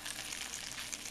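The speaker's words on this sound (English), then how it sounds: "Alright, I'm going to fry these up." Perogies fry in a hot, seasoned pan, giving a steady, close sizzle with fine crackling and spitting throughout, no voices over it.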